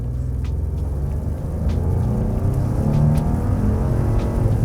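A Ford F150 with a 5.0L Coyote V8 revs hard in the rain, a loud, close, deep engine rumble that swells and holds as the throttle opens.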